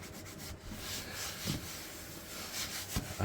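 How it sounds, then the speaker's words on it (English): Leather being hand-rubbed with balm, a soft continuous scuffing close to the ear, with a few slightly stronger strokes; no one speaks. "But just the rubbing, that's just the oils working back and forth is what that is."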